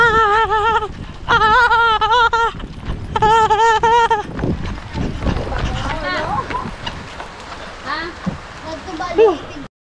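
Strong gusty wind buffets the microphone during rain outdoors in the Philippines, a loud, continuous rough roar that follows a few seconds of a voice speaking.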